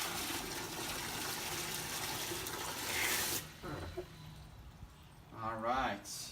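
Municipal tap water runs from an open faucet into a collection container, a steady broadband rush for about three seconds before it cuts off, followed by quieter handling sounds and brief speech near the end.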